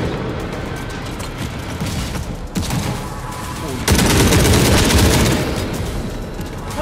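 Deployed turret in a war-zone shooter game fires a dense, continuous stream of rapid shots, swelling sharply louder halfway through as heavier bursts join in, with gunfire sustained throughout.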